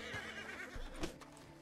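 A horse in the video game Red Dead Redemption 2 gives a faint neigh and whinny, quiet and brief against low background noise.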